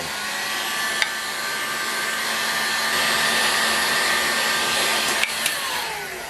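A heat gun blows a steady, loud whooshing hum while warming a bearing housing on a Moki 61LS hub, running continuously close by with a couple of small clicks and no talking.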